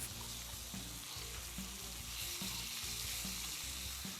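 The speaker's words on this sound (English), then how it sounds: "Once the bacon is crisp and brown on one side, turn it over and brown the other side." Bacon strips crisping in a pan fry with a steady, dense sizzle and spatter throughout, close and loud, no voices over it.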